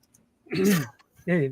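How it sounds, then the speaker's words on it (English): A throat being cleared with a gravelly, voiced rasp, followed by a second shorter rough clearing sound, close and fairly loud. "Clear my throat."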